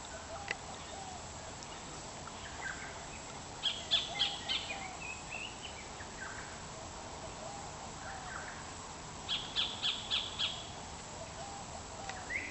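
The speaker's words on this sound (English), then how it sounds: "See how many bird cries, bird songs you can pick up on the soundtrack" Wild birds along a dense forest creek give two short bursts of rapid chirping calls, moderately distant and a few seconds apart, over a quiet steady ambient hiss.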